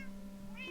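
A single short meow from a pet cat in Minecraft, faint and quiet against a soft background hum, rising slightly at the end.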